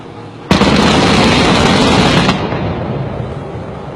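Sustained rapid burst from 35mm Oerlikon anti-aircraft guns linked to Skyguard radar during military exercises, a loud dense roar of automatic fire lasting about two seconds, then a rumbling echo fading away.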